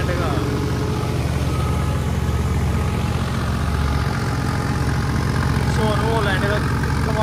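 A New Holland 3630 tractor engine runs with a low, steady idling rumble, while people talk over it throughout.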